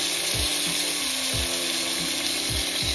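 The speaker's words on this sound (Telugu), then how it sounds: "కొంచెం సేపు వేయించుకోవాలి." Soaked, drained basmati rice fries in a pan for aloo matar pulao, a dense, loud, continuous sizzle with a few soft low thumps of stirring, heard up close and alone.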